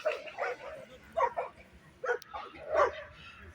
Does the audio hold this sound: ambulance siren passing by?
no